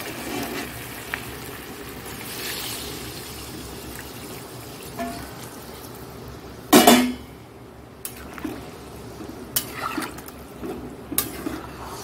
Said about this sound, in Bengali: এবার এর মধ্যে একটু জল দেবো, তেল বেরিয়ে গেছে, জলটা দিয়ে দেবো।